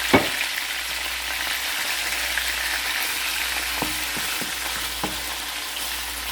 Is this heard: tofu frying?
yes